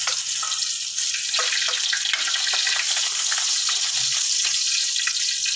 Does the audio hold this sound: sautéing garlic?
yes